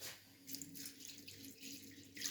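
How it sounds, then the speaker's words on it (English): Cold water, about a litre, pours into a cooking pot already holding tomato puree and spaghetti, a steady close-up splashing stream running for a couple of seconds with no talk over it. "Litre of cold water."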